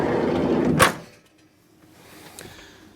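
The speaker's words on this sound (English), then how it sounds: "Let's close that sliding door." A 2003 VW T4 camper van's sliding door closing nearby: a rolling slide under wind noise ending in one loud solid slam, followed by a quieter rattle and soft knock.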